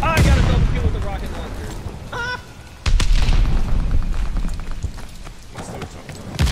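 Rocket launcher blasts in the shooter Call of Duty: Vanguard: loud booming explosions and sharp impacts, one heavy hit near the middle, mixed with busy battlefield noise and in-game voice chatter.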